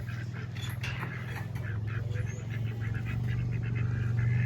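Ducks quacking repeatedly in a rapid, chattering series, close by and fairly loud, with a low hum underneath.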